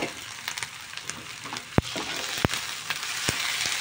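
Tomatoes frying with ginger in a pan for chana masala, a close, steady crackling sizzle with a few sharp clicks of utensils against the pan.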